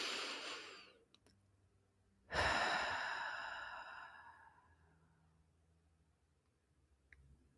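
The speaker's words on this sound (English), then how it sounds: "In through your nose, out through your mouth." Slow, deep breaths drawn in through the nose and let out through the mouth, guided as a calming exercise; one long, loud exhale swells and fades, with soft breathy sounds before and quiet between, no talking.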